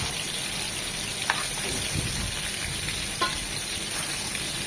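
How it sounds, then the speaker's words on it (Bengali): Small hilsa fish fry in plenty of oil, giving a dense, steady sizzle close by, broken only by a couple of faint soft knocks. "ওই পাশটা এরকম 1 মিনিট ভেজে নেব"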